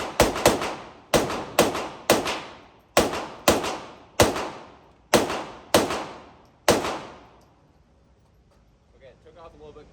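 A Taurus TX22 .22 pistol is fired at a shooting competition. About a dozen sharp, close reports ring out in quick bursts over roughly seven seconds, each with a short ringing tail, followed by near silence.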